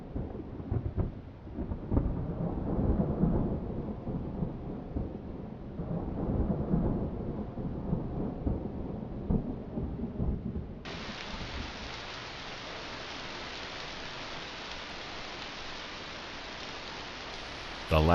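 Thunderstorm over Northern California in late March, with low, rolling thunder rumbles in the first half. It then turns into a steady, dense hiss of heavy rain falling on surfaces.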